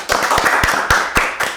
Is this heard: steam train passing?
no